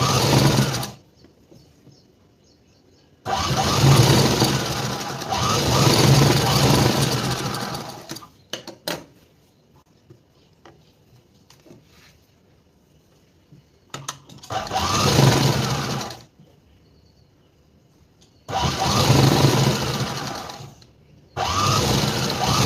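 Sewing machine stitching a garment's shoulder seam: loud whirring runs in four separate bursts of a few seconds each, with near-silent pauses between them.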